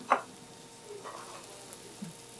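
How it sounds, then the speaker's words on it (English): Cut bread drops into a little hot oil in a pan, giving one sharp sizzling hiss followed by a soft, faint crackle. "a little oil, and I put the cut bread inside here"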